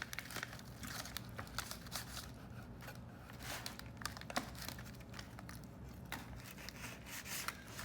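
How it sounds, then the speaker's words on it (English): A sharp knife saws between the bones of a smoked beef plate short rib, giving close, steady crinkly rasping and rubbing scrapes with small crackling bursts throughout. "Cut it right in between the bones."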